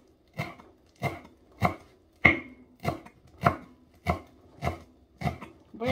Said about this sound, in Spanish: Voy a acabar de picar esto